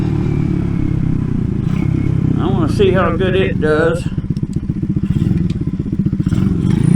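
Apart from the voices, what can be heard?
RPS Racer 140 mini bike engine running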